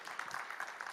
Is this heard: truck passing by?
no